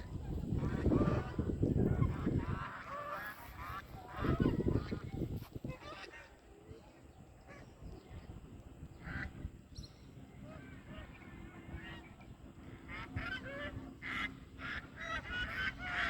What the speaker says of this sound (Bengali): ওই যে দূরে হাঁসের পাল